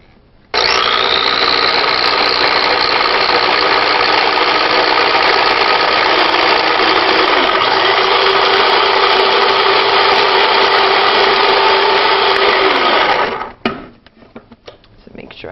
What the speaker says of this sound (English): And then I'm going to put it in a food processor and just mix it up.